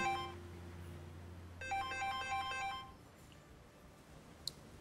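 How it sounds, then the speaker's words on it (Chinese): An electronic phone ringtone plays a bright, repeating melodic pattern, then stops, leaving a quiet room with a faint click. "电话响了，还不接。"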